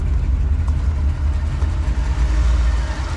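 A steady, low engine rumble from a car engine converted from carburetor to fuel injection idles continuously with a smooth, even hum and no revving, close by.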